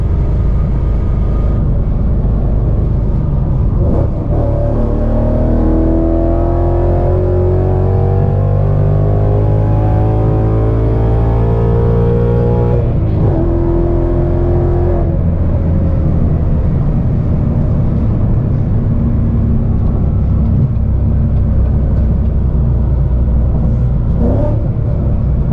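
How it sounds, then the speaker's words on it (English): A car engine under a wide open throttle pull during a Lund Racing data log: loud, close rumbling drone that climbs steadily in pitch as it revs, drops back, then builds again and settles into a lower steady roar. "I'm gonna go ahead and do the wide open throttle here"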